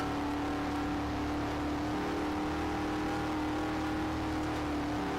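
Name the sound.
race cars on track in a NASCAR racing video game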